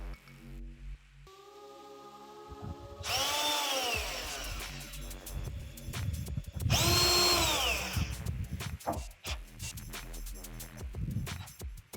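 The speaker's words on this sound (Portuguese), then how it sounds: "E com esses dois parafusos a gente vai fixar a nossa chapa." A power drill or screwdriver whines in two loud, rising bursts as screws fix the mounting plate of an MFD 3000 digital door lock, with clicks and handling noises between runs and no speech.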